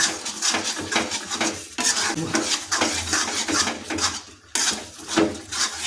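A ladle scrapes and clinks repeatedly around a pan of Bengali jackfruit-shrimp curry, a close, busy rhythm of metal strokes with brief pauses between stirs.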